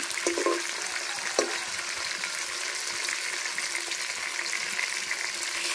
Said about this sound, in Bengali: আর মাছ ভাজাটা হয়ে গেছে